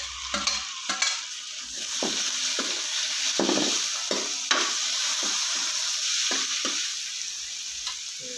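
Onions and tomatoes fry and get stirred in a pan for a hotel-style parotta salna, with a steady sizzle broken by repeated clinks and scrapes of the spoon against the pan.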